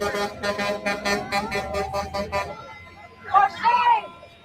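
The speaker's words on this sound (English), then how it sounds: "I'll hear all those horns honking." Car horns honking at a street protest against ICE outside Delaney Hall in New Jersey: a run of about eight rhythmic, evenly spaced toots, followed by a short raised voice.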